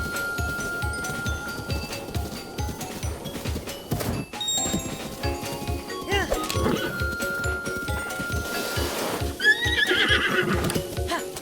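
Horse neighing and whinnying with steady clip-clop hooves in Zelda: Breath of the Wild, running continuously alongside background game music and effects, with a louder whinny near the end.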